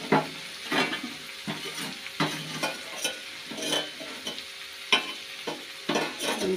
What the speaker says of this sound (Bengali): এখন দিয়ে দেবো শুটকি মাছটা।